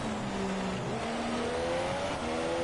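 A Mercedes race car in a racing video game, its engine holding a steady, smooth note as it climbs through the revs, with other cars droning close by.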